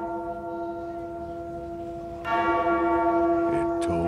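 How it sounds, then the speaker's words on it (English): A church bell tolls in a steady sustained ring, then a second louder strike with a bright metallic clang layers over the lingering hum, near and resonant, with no voices. "Ask not for whom the bell tolls."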